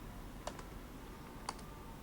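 Two isolated taps on a laptop keyboard, separated by about a second, sound quiet and close over a faint background hum.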